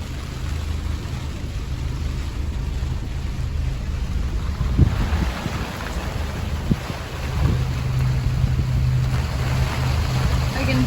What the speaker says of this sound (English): I can hear a boat out there, but I can't see it.